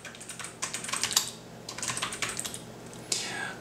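Quick clicking keystrokes on a computer keyboard while a post is typed, uneven bursts of taps with brief gaps, close up and with no talking.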